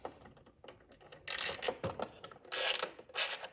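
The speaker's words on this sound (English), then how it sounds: "and put that 7/16 nut back on. Tighten that back up." A ratchet tightens a 7/16 nut on a Broadacre solenoid, giving a few quick clicking bursts of close, moderately loud mechanical ratcheting with short pauses between them.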